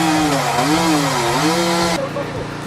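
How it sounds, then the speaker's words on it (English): A homemade firewood processing machine with a chainsaw cuts small and medium-sized trees into firewood logs. Its engine whines loudly with rising and falling pitch, then drops off abruptly near the end. "This homemade firewood processing machine, with human assistance, can cut small and medium-sized trees into small firewood logs."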